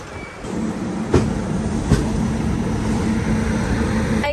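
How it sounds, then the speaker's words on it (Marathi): A passenger train runs along just after leaving Mangalore station. A steady, close rumble from inside the carriage carries through, with a couple of sharp clunks from the wheels or couplings. "बरोबर राईट टाईम गाडी चाललेली आहे"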